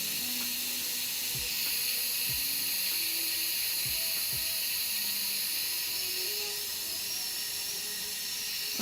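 Steady loud hiss of steam venting as pressure is released from a cooking pot, continuous throughout with faint clicks and small tonal squeaks over it, no voices.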